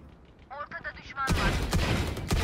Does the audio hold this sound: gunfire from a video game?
yes